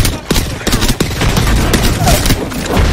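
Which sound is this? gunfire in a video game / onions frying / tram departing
gunfire in a video game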